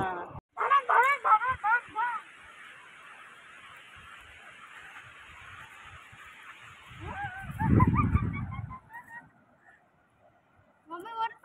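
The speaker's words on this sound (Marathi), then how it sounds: "सगळी उडाली बदक. गोल गोल फिरून परत बसली." A flock of ducks circling overhead at a beach, honking calls bursting loudly at first, thinning out, then flaring again with a low rumble and a last few calls at the end.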